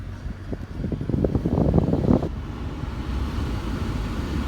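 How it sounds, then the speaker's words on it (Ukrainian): Inside a used car with a manual gearbox, the air conditioning blows steadily, a broad close whooshing hiss of fan airflow with a brief louder rustling burst early on, with no talk. "кліма відразу холодить тут ужасно."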